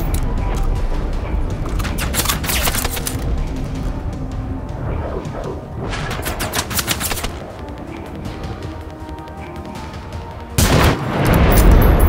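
Gunfire in the video game Generation Zero: rapid bursts of automatic shots and booming explosions, loud and dense, with a big blast near the end.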